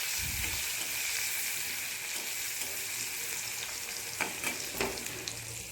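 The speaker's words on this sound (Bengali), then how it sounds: "এবার পেঁয়াজ কুচিটাকেও একটু হালকা করে ভেজে নিচ্ছি।" Chopped onion fries lightly in oil over cumin for a pabda fish dish, a continuous soft sizzle with occasional stirring scrapes and clicks toward the end, heard alone.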